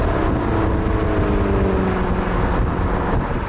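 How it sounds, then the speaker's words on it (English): A Jaguar XKR75 sports car engine drones steadily with a hard, raspy exhaust edge, loud and continuous throughout. "There's an edge to the noise this car now makes. It's got that hard rasp"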